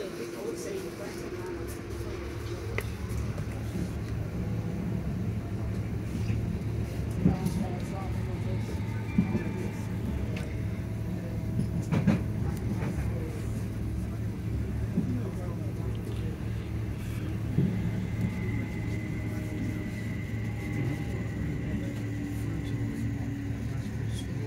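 Southeastern train running on the main line near New Cross, a steady low rumble with a constant droning hum that stays loud and even throughout, with wheel and track noise rising and falling slightly.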